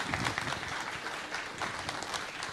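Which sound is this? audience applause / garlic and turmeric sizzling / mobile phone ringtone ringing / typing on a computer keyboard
audience applause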